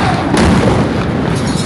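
Heavy booming blasts from Israeli strikes on southern Beirut, loud and rumbling with a sharp thud early on, filling a short stretch without clear talk.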